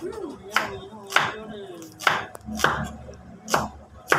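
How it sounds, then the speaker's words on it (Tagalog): A kitchen knife chops garlic, onion and ginger, making about eight sharp, close knocks at irregular intervals with soft rustling between them and no voices. "Ngayon po ay maghihiwa po ako ng bawang at saka sibuyas tsaka luya po"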